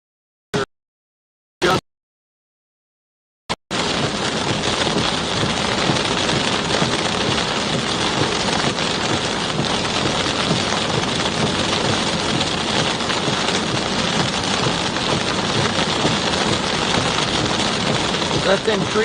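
Heavy storm rain starts suddenly after a few brief clicks and becomes a dense, steady, loud hiss that holds without a break; no distinct thunder stands out.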